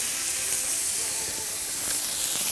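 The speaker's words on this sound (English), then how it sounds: "Time to grill our burger patties." Picanha burger patties searing on a hot grill, giving a loud, continuous, close hissing sizzle with no break.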